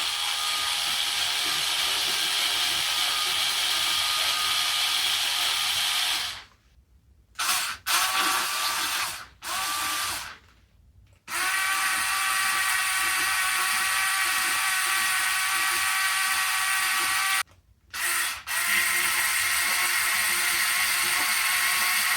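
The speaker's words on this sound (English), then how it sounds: "A small drill needs more speed, but this speed is usually enough for rivets." A small drill bores out rivets on a Lenovo S340 laptop, a steady high-pitched whining motor close by that stops and restarts several times in short bursts.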